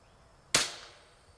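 A single sharp shot from an FX Impact M3 air rifle, a sudden bright crack that decays over a short tail, with quiet before it and no talk.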